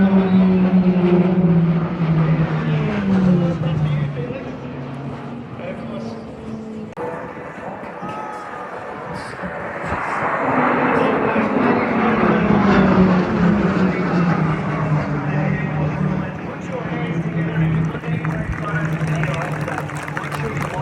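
Roulettes aerobatic propeller aircraft fly past at the Avalon Airshow, their engine drone rising and falling as they pass, loud and fairly near, under a commentator's voice over the public address.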